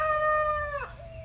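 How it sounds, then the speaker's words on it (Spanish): A rooster crows close by, one loud sustained call with a bright rising tone that drops away sharply at the end, over a low background hum. "Oiga, le cantó el gallo."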